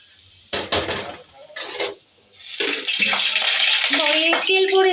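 Whole cumin seeds and chopped onion hit hot oil in a pan: a few clattering utensil knocks first, then a loud sustained sizzle rises and holds, with faint tonal squeaks near the end.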